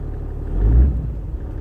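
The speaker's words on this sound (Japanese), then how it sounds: "今エンジンかけてますね" A low, steady engine rumble from a Toyota Land Cruiser 80 HDJ81 with a weak alternator, close by, swelling slightly midway before settling back to an even idle.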